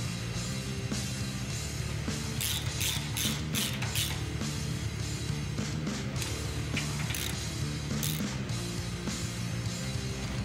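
Bolts on a Ford Raptor full-floater rear axle drive plate cap being tightened to torque with a ratchet, giving repeated short metallic clicking bursts over a steady mechanical background, close by with no talk.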